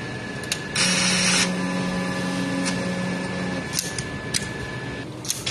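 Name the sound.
sublimation printer head cleaning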